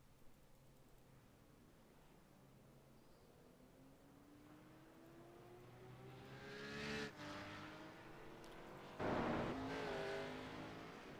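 Race cars in a stock car racing video game set at Daytona roll off, with engine drones rising steadily in pitch as they accelerate, growing from faint to loud, then a sharp surge near the end.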